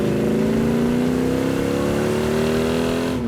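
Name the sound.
V8 engine with dual quads revving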